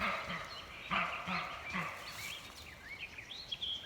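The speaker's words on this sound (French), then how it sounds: "Vous avez entendu le bruit du chevreuil, l'aboiement du chevreuil." Outdoors in the woods, a roe deer gives short, hoarse barks spaced about a second apart, with scattered birdsong in the background.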